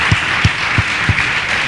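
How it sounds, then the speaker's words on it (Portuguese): A church congregation claps in a steady rhythm, about four evenly spaced beats, over a dense wash of crowd noise and voices. "Vamos dar uma salva de palmas ao Senhor"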